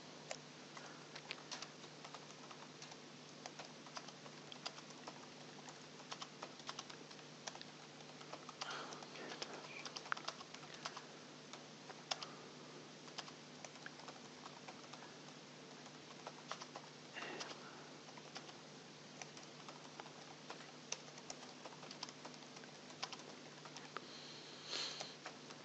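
Someone types document text on a computer keyboard, with faint, close key clicks in an irregular patter throughout a quiet room with a low hum.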